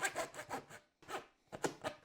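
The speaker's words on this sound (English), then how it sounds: "I used a handsaw to cut it out" A handsaw cuts through thick cardboard in close, rasping back-and-forth strokes, about four quick strokes, a pause, then a few more.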